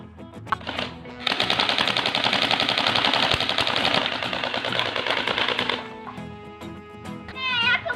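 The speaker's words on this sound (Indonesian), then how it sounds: "Yuk langsung kita mulai menembak" An airsoft gun fires a rapid, sustained burst of sharp clicking shots for several seconds, loud and close, with children's voices briefly heard before and after.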